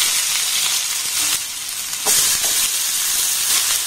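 Chopped onions and whole cumin seeds frying in hot oil, a steady dense sizzle and crackle throughout, close and fairly loud, with a brief stir or spatter near the middle.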